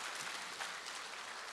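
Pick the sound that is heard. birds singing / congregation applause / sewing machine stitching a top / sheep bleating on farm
congregation applause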